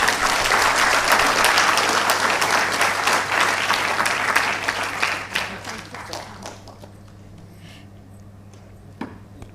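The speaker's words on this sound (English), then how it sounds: "please give a round of applause." An audience at a panel discussion on India's Olympic ambitions gives a dense, loud round of applause that gradually thins into scattered claps and fades to near quiet, with a few isolated claps at the end.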